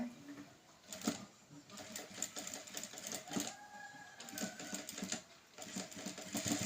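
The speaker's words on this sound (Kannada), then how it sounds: "ನೋಡಿ ಕರೆಕ್ಟಾಗಿ ಎಡ್ಜಿಗೆ ಸ್ಟಿಚ್ ಹಾಕ್ಕೋಬೇಕು" A sewing machine stitches canvas into a blouse with faint, uneven bursts of rapid clattering and small handling taps, quiet and close, continuing with brief gaps throughout.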